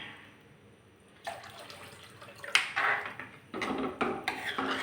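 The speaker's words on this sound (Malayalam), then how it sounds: "അര ഗ്ലാസ് വെള്ളം കൂടി ചേർത്ത് കൊടുത്തിട്ടുണ്ട് കേട്ടോ." Water is poured into a pot of mango pulissery curry, a faint pouring splash starting after a quiet moment and building into louder sloshing and liquid rushing, with a clink of the vessel.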